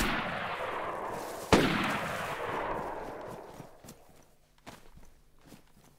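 A single loud Walther rifle gunshot in the video game DayZ (Namalsk) rings out with a long decaying echo, followed by quieter clicks and scattered footsteps-like taps.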